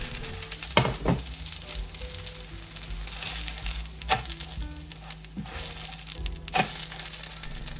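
Korean green onion pancake (pajeon) frying in cooking oil in a pan, giving a steady close sizzle with a few sharper crackles and scraping knocks spread through.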